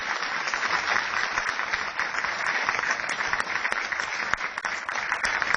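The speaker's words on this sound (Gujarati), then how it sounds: "ખરેખર એ બાળકો માટે એકવાર જોરદાર તાળીઓનો ગગડાટ કરવો જોઈએ." A crowd breaks into sustained applause for the children, a dense wall of clapping that holds steady and loud throughout with no talk on top.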